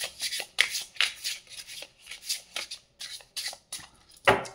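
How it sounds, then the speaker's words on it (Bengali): Tarot cards are shuffled and drawn close up, with a run of quick crisp riffling and flicking bursts coming in an uneven rhythm, loud against quiet gaps and no talk. "আমার আরেকটা কার্ড কেন জানি না নিতে ইচ্ছে করছে, আমি আরেকটা কার্ড নেব,"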